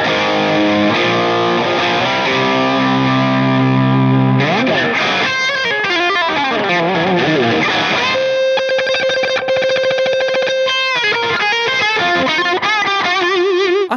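An electric guitar runs through a Formula B 80 Master distortion pedal with generous gain, playing dense distorted chords and then bending, sliding lead lines, loud and continuous with no talk.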